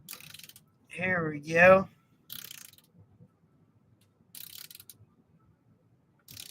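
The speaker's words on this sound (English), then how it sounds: "What a great little ratchet" Small ratchet turned in short bursts of bright clicking, heard after a brief spoken phrase, with quiet gaps between the bursts.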